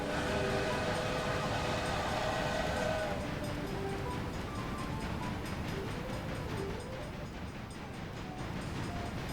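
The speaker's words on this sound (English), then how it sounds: "We are followed by another train and passenger train." Trains run on rails in the railway video game Railway Empire 2, a steady rumbling bed of rolling wheels with a tonal horn or whistle fading out early, continuous and moderately loud without talk.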